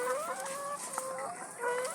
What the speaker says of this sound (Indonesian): saya lagi ada di peternakan ayam petelur yang mau disuntik, ayam yang ngorok